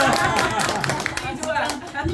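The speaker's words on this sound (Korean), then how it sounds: "큰 박수로 다시 모셔보도록 하겠습니다." A seminar audience claps to welcome a speaker back to the stage, heard as moderate clapping under prominent talking and crowd chatter.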